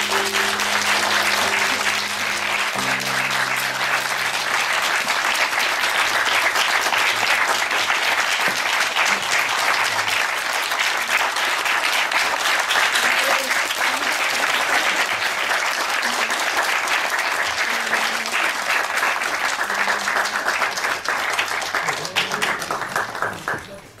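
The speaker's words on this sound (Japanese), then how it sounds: "盛大な拍手でお迎えください。" Sustained applause from a large audience fills the whole stretch, dense and loud, fading slightly at the very end.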